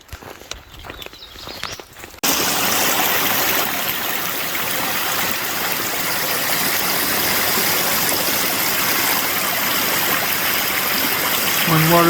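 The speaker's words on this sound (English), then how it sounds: "One waterfall right after another one." Rushing water from a stream and a run of waterfalls along the Ozark Highlands Trail, a loud steady broadband roar that holds for most of the stretch after a quieter opening with footsteps.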